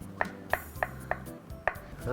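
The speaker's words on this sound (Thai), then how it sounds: "เต้าหู้นะครับ เราหั่นเป็นชิ้นเล็ก ๆ ครับ" A knife chops tofu into small pieces on a cutting board, giving five or six crisp, evenly spaced knocks at a brisk, steady rhythm, close and clear with a faint background hum.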